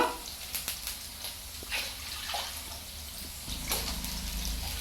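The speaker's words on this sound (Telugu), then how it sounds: "గ్లాస్కి వచ్చేసి గ్లాసున్నర అయితే వాటర్ పోస్తాను నేను" Water is poured from a glass into a pot to boil vermicelli. The pouring is a faint, steady trickle with a few splashes and no talking.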